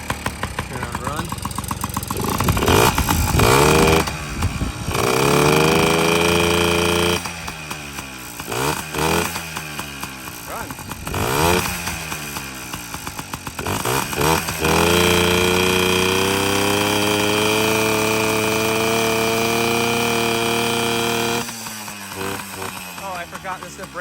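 A Yamaha PW50 dirt bike with a brand new top end buzzes close by. Its small engine is blipped in several quick rising revs, then settles into a steady, raspy idle that runs for a long stretch.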